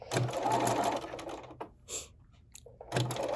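A home sewing machine with a knee lever stitching a quilt block, running in short bursts of fast mechanical whirring separated by brief pauses, close and fairly quiet.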